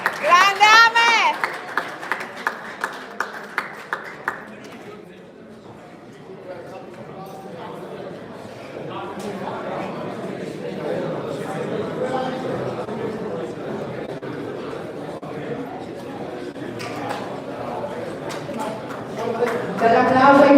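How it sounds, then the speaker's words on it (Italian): Applause for the boxers at an Olympic boxing event in Verona, sharp rhythmic claps in the opening seconds followed by a noisy indoor crowd, with an announcer speaking over it. "Dall'applauso ai pugili."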